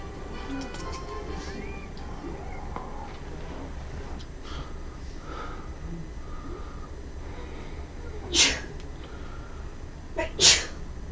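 Two short, sharp human sneezes, the second a little louder, cut through a quiet indoor background with faint talk underneath.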